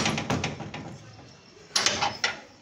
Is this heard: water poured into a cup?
no